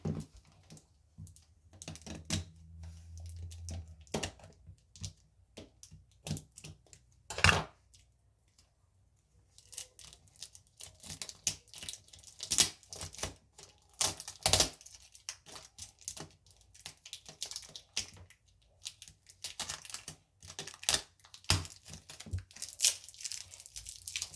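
A taped package is torn open by hand, with irregular bursts of ripping tape and crinkling wrapping close up, separated by brief pauses and small handling clicks.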